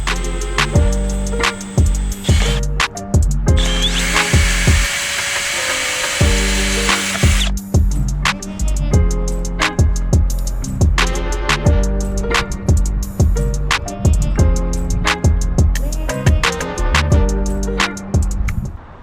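Short loud bursts of a power drill whirring on and off repeatedly, with one longer sustained run near the start.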